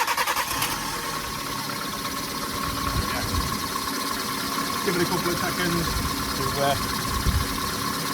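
A Kia Rio's engine cranks and settles into a steady idle after a fresh oil change, heard close while someone talks over it.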